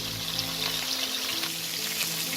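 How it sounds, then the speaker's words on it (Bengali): Pieces of bhetki fish, coated in salt and turmeric, frying in hot oil in a pan, giving a steady, close, loud sizzle with a bright hiss and crackle throughout. "এবার আমি মাছগুলো তেলের মধ্যে দিয়ে ভালো করে লাল করে ভেজে নেব।"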